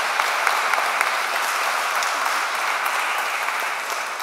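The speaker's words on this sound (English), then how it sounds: "How about a little round of applause?" Wedding guests applauding inside St Mary's church after the vows, a sustained, even round of clapping from a crowd that carries on for several seconds without talk.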